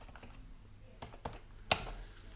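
A few quiet, separate keystrokes on a computer keyboard, close by, with no voices.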